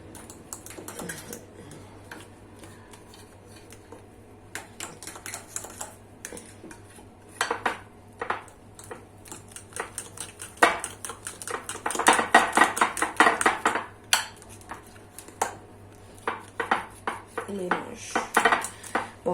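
Fritter batter for a banana cake being mixed in a bowl, with a spoon or whisk clattering and tapping against the dish in irregular bursts that grow busier midway, close and fairly quiet with no talking.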